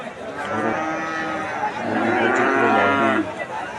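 Cattle at a busy livestock market in Bikrampur, Bangladesh, mooing loudly and steadily, long drawn-out lowing calls overlapping one another, close by with no talk.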